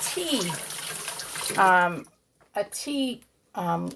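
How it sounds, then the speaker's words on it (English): A seasoning packet rinsed under a running kitchen tap, the water rushing steadily at first, then someone speaks over and between short spurts of water. "Here is the little season packet, which I'm going to rinse off."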